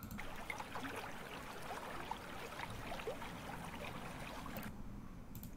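Ambient loop of a flowing brook in a Roblox game, a steady broadband wash of trickling water with small bright splashes, fairly quiet and continuous, thinning out near the end.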